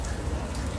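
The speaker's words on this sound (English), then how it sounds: "I have been riding in the rain for 7 hours." Rain falls steadily during a motorcycle road trip ride, a dense close hiss of drops with low rumble underneath, heard briefly without talk.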